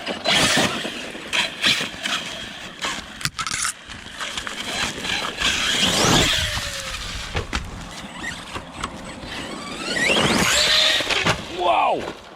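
An ARRMA Kraton 6S RC car tears around an outdoor BMX track, its electric motor whining and squealing in surges with scrapes and tire noise, loud then fading, mixed with outdoor bustle and occasional chatter.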